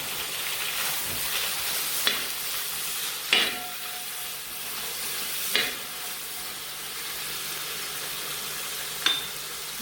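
Slit green chilies fry in hot oil for a beef fry, giving a constant sizzling hiss broken by a few sharp clinks of a spoon stirring the pan.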